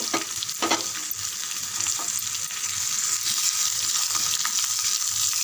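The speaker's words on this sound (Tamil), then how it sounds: "இது நல்லா வதங்கட்டும்" Chopped bottle gourd with its skin sautés in a pan, giving a steady close sizzle with occasional stirring scrapes that grows slightly louder partway through, no voices.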